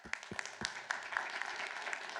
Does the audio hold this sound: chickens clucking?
no